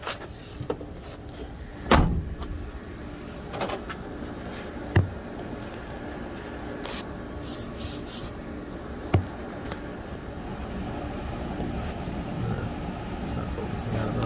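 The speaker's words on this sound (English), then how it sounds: "I'll go ahead and shut the door." A car door on a 2014 Toyota FJ Cruiser shuts with a solid thud amid a few other clunks and handling noises, in a quiet garage setting with background hum.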